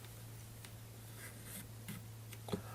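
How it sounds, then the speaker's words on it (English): Pencil on paper, faint scratchy strokes in short bursts over a steady low hum, close by and quiet. "And I'll just use a pencil."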